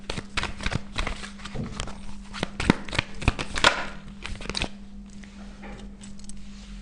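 Tarot cards being shuffled, a run of close, crisp riffles and slaps in quick bursts over a low steady hum, fading to softer handling at the end.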